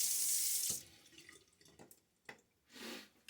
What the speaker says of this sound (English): Let's rinse out the blade and razor here.